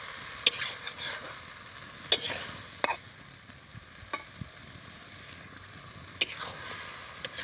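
Spice paste and potatoes stirred and fried in a pan, with a soft steady sizzle broken by sharp scraping clicks of the spoon every second or so, fairly quiet and close.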